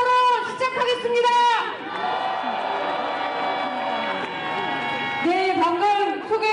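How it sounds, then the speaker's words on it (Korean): A large crowd at an anti-Trump rally in South Korea cheers and shouts in a loud roar, with whoops rising over the noise. Amplified speech frames the cheering at the start and end. "여러분의 힘찬 박수와 함성으로 시작하겠습니다"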